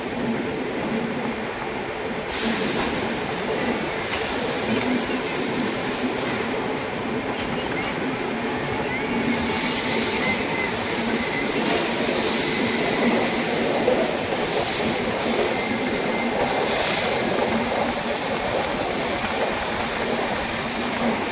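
Mangalore Superfast Express train picking up speed, heard from on board as a continuous loud rumble and rattle of the carriages, steady throughout with no talk.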